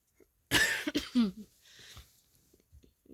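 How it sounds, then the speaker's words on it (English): A short burst of coughing up close, a few harsh coughs clustered together followed by throat clearing and breathing, as if from dust kicked up by sudden movement. "You end up coughing a bit because of the dust kicked up from the sudden movement."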